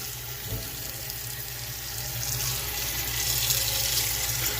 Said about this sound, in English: I'm gonna start out by putting some water in the pot.